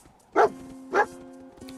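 A dog in Fallout 4 gives two short barks about half a second apart, moderately loud over a quiet game background with a steady tonal hum.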